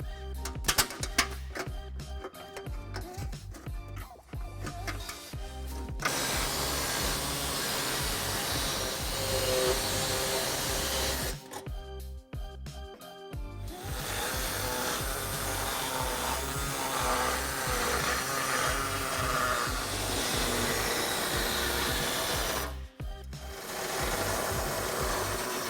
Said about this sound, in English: cutting with either an air saw, as I have here